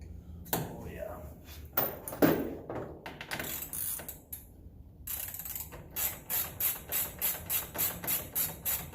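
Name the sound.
wrench ratcheting while working on Can-Am X3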